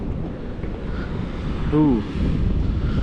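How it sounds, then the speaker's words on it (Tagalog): Wind buffets the microphone over a steady rush of ocean surf at a rocky shore, loud and continuous, with a brief voice-like sound partway through. "Umakyat yung alon."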